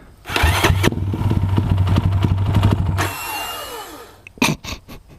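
A motorcycle engine starts and idles loudly close by with a rough, chattering pulse for a few seconds, then cuts off, leaving clanks and handling noises.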